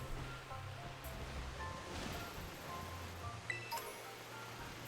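A small waterfall in the Pokemon Scarlet: The Teal Mask video game gives a steady, soft rushing wash of water, continuous and even throughout with a faint low hum beneath.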